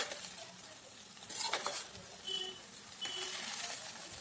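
Rice stir-fried on medium heat, with soft intermittent scraping and tossing strokes of a spatula and a faint sizzle underneath, quiet and close, no talk.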